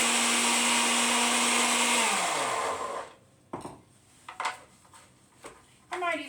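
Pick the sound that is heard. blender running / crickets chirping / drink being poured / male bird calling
blender running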